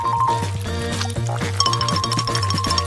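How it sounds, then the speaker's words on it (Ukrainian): Melted chocolate being poured into a glass, a steady liquid pour with faint drips over a tonal musical background. "Тепер залишилось перелити в келих."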